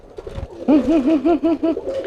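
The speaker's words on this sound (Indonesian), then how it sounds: "Ini merpati yang dari pasar, teman-teman." A market-bought pigeon coos nearby in a series of rhythmic, rolling calls, loud and close, after a few softer opening notes.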